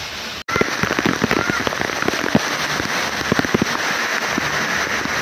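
A dancing-rain shower at the Black Thunder water theme park in Coimbatore sprays water down in a loud, continuous patter of drops. The crackling patter has a brief cut near the start and no talk over it.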